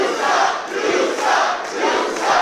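A wrestling audience cheers and roars in a steady, loud swell that rises and falls in waves, with no voices distinguishable above the crowd.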